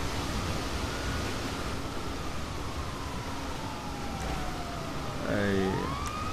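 An ambulance siren in the video game GTA 5 wails faintly in the distance over a steady noisy background, its rising and falling tone growing clearer and closer toward the end.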